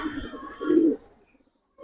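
A Giribaz pigeon gives a short, soft coo, a low throaty call heard nearby in a quiet setting, then fades to near silence.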